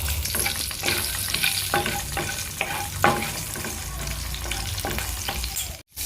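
Nigella seeds and slit green chillies sizzle steadily in hot mustard oil for a fish curry, with a continuous close fry and repeated stirring scrapes and clinks, no voices.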